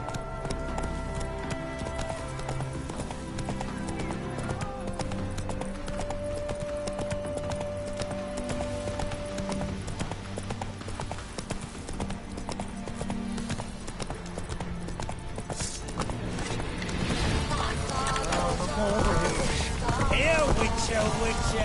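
Roach, a horse in the video game The Witcher 3, clip-clops along at a steady trot, hooves thudding in an even rhythm under game music and ambience, growing louder and busier toward the end.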